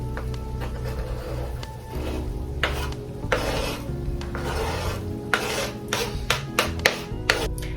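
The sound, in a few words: chopped vegetables added to browned meat sizzling in a pan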